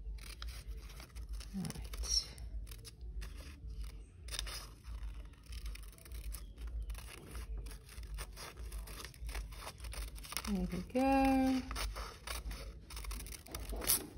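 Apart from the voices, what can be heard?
scissors cutting paper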